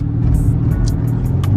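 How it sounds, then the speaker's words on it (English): A Dodge SRT roars along a rainy highway under hard driving, its engine a loud steady low drone with road noise and occasional higher hiss, no talking. "trying to push this car to the maximum in the rain"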